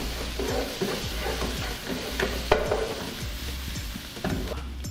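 Onions and garlic fry in a pan while green seasoning goes in, giving a steady close sizzle with scattered spoon-stirring scrapes and light knocks against the pan.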